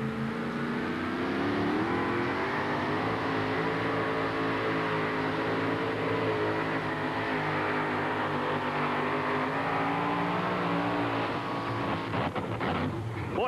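2WD truck engine screaming at high, sustained revs during a truck pull, a loud continuous roar that holds steady before breaking up near the end.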